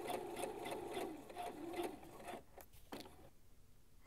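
A home sewing machine stitches a dress seam with a regular-width stitch, its fast needle rattle pulsing steadily for about two seconds before stopping, followed by a few faint clicks in near quiet.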